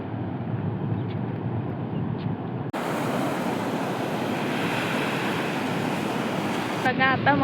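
Big sea waves at high tide crashing on a beach, a continuous loud roaring surf with wind buffeting the microphone and brief voices near the end.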